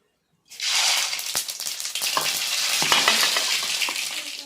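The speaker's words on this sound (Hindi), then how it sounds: "तो कढ़ाई में तेल गरम हो चुकी से अब हमने में डालबो सरसों के फोरन।" Mustard seeds hit hot oil in a kadai and fry with a loud, steady crackling sizzle that starts abruptly after a brief silence and continues throughout, with scattered pops and stirring rattles.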